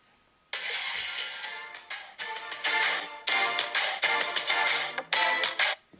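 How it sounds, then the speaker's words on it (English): A violin-like solo line played on a keyboard for a song, a loud, continuous run of bright sustained notes with short breaks between phrases, heard alone. "there's a part that's like a violin solo,"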